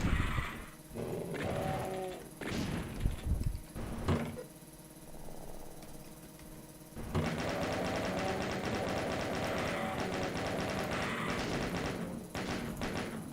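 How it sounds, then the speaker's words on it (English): Chain gun fire in Doom 2, starting with scattered shots and monster noises and then a long, dense, continuous rattle of rapid fire, fairly loud and with no talking. "using the chain gun there to push middle one this time"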